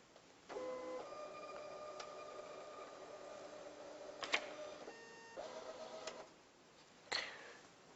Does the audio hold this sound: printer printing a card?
yes